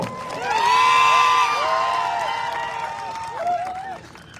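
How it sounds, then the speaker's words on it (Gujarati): At a public rally in Chikhli for MLA Chaitar Vasava, a crowd breaks into loud cheering with rising, shouted and whistle-like calls that peak early, then fade before a short renewed burst. "સૌ તાળીઓથી વધાવી લે મિત્રો"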